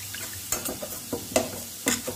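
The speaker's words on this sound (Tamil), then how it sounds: "தண்ணி ஊற்றிட்டு கலந்து விட்டுருங்க." A spoon scrapes and stirs through a sizzling pan of bitter gourd kulambu curry with water just added, in several irregular strokes, close and moderately loud, with a constant frying hiss underneath.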